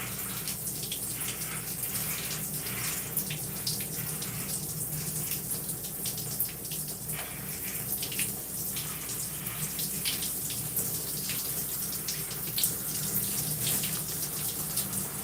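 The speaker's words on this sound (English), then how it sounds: "we have successfully rinsed out the product" Running water rinses product out of hair, a steady gushing tap stream with shifting splashes as hands work through it, continuous and close for the whole stretch; no one speaks.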